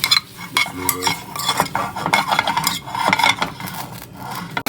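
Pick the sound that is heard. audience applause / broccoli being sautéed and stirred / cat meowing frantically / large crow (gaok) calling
broccoli being sautéed and stirred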